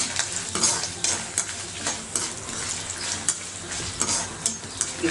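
Batter bonds frying in hot oil for a hotel-style Mysore bonda, a steady close sizzle with bubbling crackle and occasional stirring clinks throughout, no talking.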